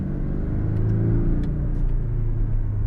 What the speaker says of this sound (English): I'm leaving it in automatic in Sport Plus mode to see how it shifts